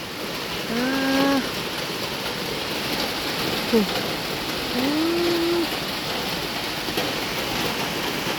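Steady rain patters outdoors in a constant hiss, while a cow moos twice in the distance.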